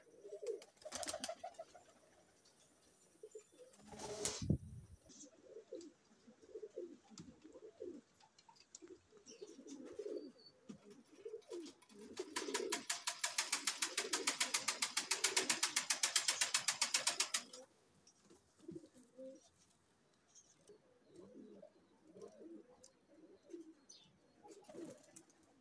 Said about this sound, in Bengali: অরিজিনাল মায়া কবুতর এটা। মায়া কবুতরের ডাক দেখেন।